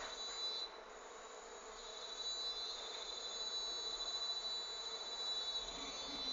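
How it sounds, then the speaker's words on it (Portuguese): Melipona scutellaris stingless bees, the Uruçu, gather to feed, producing a steady high-pitched insect drone with faint buzzing passes, fairly quiet and continuous throughout. "Já temos aqui uma boa movimentação de abelhas se aproximando."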